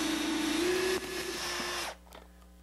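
Power drill boring into wooden trim, a close, high whine that runs steadily for about two seconds, then cuts out abruptly and leaves only faint clicks.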